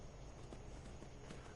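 Horse hooves clopping at a steady walking pace in the video game Skyrim, faint and continuous over a low background rumble.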